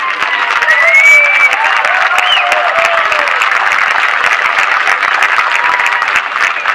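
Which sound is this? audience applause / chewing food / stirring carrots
audience applause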